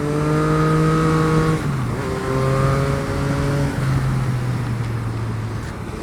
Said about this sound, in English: the exhaust, like sometimes when getting off the gas, makes like little sounds that are so satisfying